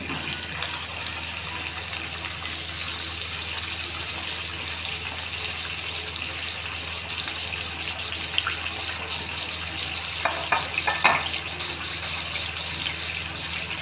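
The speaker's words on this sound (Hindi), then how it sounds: "गोश्त को अच्छे से फ्राई करना है" Meat fries in a pot for Bannu pulao, giving a steady hissing sizzle throughout with a few sharper crackles and pops near the end, and no talking.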